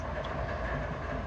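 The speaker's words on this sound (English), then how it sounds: "And a train." Train rolling past in the Run8 train simulator game, a brief steady rumble of wheels and cars without any talking.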